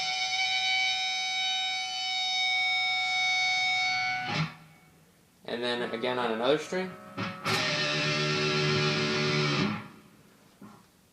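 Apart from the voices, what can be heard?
guitar pinch harmonics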